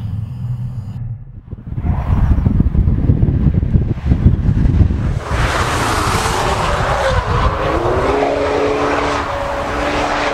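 Mercedes A45 AMG driven hard through corners on a test track, engine roaring loudly with wind buffeting, then tires squealing in drawn-out whines as the car turns; no talk.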